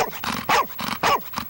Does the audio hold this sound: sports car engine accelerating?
no